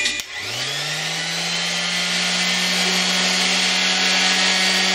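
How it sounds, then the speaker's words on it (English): A Ryobi RS290G orbital sander is switched on and spins up within a fraction of a second into a loud, steady, close-up whine and buzz that runs without a break, with no voices. "All right, let's plug it up and let's see what it can do."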